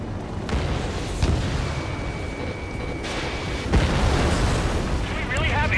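A missile launches and explodes in a flight combat video game: booming, rumbling bursts with sharp hits near 1 and 4 seconds over a steady roar of engine and battle noise.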